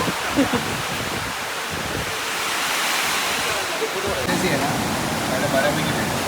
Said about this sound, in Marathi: कसला वारा आला